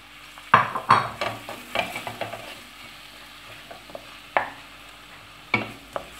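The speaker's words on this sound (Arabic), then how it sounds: "الرجله وغنبقى نشحرها فيها تتشحر مزيان" Purslane is sautéed in a pan, with a soft sizzle under repeated scraping and stirring strokes of a utensil against the pan, close and clear, with several sharper clinks.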